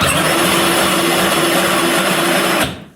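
Power Wheels Gator ride-on toy with its motor run from a drill battery, whining loud and steady up close, a high electric hum that holds for a few seconds and then cuts off abruptly.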